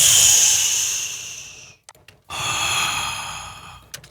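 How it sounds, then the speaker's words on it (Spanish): Breathy sighing and gasping effects made with the mouth: a long, loud exhale that fades out, a short silence with a few quick catches of breath, then another sustained airy breath. "todos son respiraciones y jadeos."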